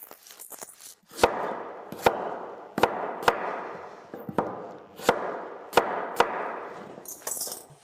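A knife chops through quartered onions on a cutting board, about eight sharp, evenly spaced knocks, close and clear over a soft background hiss.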